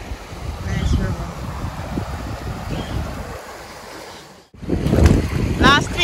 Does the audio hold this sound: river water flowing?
yes